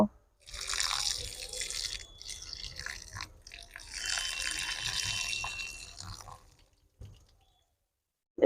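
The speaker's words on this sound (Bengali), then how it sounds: "এবার আমি ছ সাতবার জল পাল্টে পাল্টে ধুয়ে নেব" Shredded potatoes are rinsed in water, with close splashing and sloshing in two long swells separated by a brief pause, then fading to quiet.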